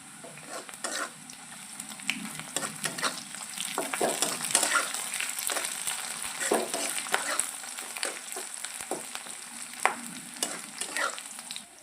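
Curry leaves and onion frying in hot oil, a steady crackling sizzle with frequent sharp pops and occasional spoon stirs, close and continuous with no voices.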